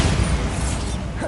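Bombarda blasting spell from the Hogwarts Legacy game: a dense, booming explosive burst with rumbling low end that fills the whole short moment, loud and close with no talk over it.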